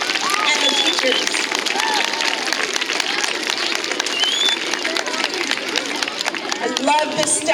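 Applause and cheering fill a school staff gathering for Mr. Braddock, the second grade and the teachers: a dense, steady wash of clapping mixed with crowd voices, loud and continuous throughout.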